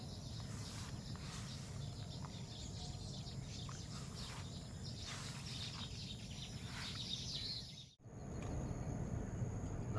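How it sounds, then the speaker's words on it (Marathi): Sparrows chirp outdoors in a Konkan village, faint scattered tweets over a steady background of insects and ambient noise, broken by a brief dropout near the end. "आणि निसर्गातील हा चिमण्यांचा आवाज खूप भारी वाटतो."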